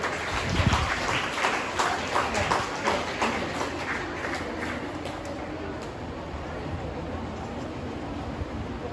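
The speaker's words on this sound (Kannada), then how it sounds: "ಎಲ್ಲರೂ ಕೂಡ ಚಪ್ಪಾಳೆಯಲ್ಲಿ ಅವರನ್ನು ಪ್ರೋತ್ಸಾಹಿಸಬೇಕಂತ ಕೇಳಿಕೊಳ್ಳುತ್ತೇನೆ" Crowd applause at a felicitation ceremony in Gangolli, a sustained hall-wide clapping that starts a little stronger and settles to an even, slightly distant patter.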